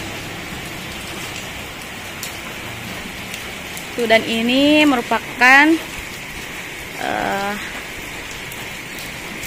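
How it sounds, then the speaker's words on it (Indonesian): Steady rain falls over a small town in Delanggu, a continuous soft hiss spread through the whole clip, with someone talking over it midway. "Ini teman-teman, ini masih hujan ya cuacanya"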